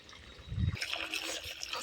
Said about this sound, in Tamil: இங்கே பாருங்க, பம்பு செட்டில் தண்ணி திறந்து விட்ருக்காங்க.